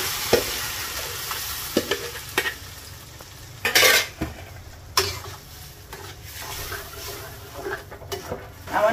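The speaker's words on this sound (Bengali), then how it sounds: "বাগারটা আমার হয়ে এসেছে, এখন আমি নিরামিষটা দিয়ে দিচ্ছি" Papaya and mung dal vegetables hit a hot pan of tempering with onion and garlic, giving a steady crackling sizzle broken by repeated loud scraping stirs and clattering utensil knocks.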